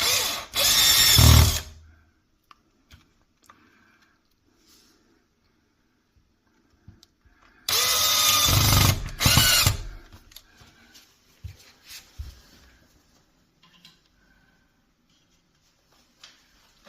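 A small screwdriver drives tiny screws into a window frame while pleated blinds are fitted: two short bursts of motor whir, with quiet taps and clicks between them, close by.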